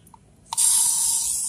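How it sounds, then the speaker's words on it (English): Aerosol bug spray can sprayed onto ants outdoors: a couple of small clicks, then a loud, close, continuous hiss that starts abruptly and holds steady to the end. "Go use bug spray to spray them down."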